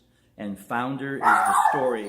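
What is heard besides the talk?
dog barking at people walking by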